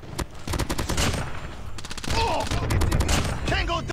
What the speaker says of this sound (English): Sentry gun ready to deploy. Sentry gun deployed.